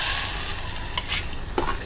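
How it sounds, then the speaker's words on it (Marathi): Green masala paste sizzles and fries in a pan with browned garlic for a Malvani Bombay duck (bombil) green curry, a steady loud hiss with a few stirring scrapes and clinks. "लसूण छान लाल झालं की आपण आपलं वाटण टाकणार आहे"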